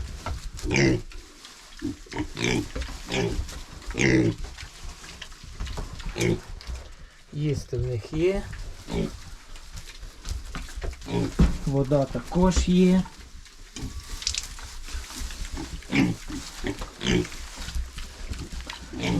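A sick piglet grunts and snorts in short bursts nearby while someone talks over it.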